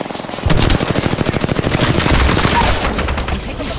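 Rapid automatic gunfire aimed at the player in an Apex Legends ranked arenas match: a loud, close, sustained stream of evenly spaced shots that starts abruptly and rattles on for about three seconds with no talk over it.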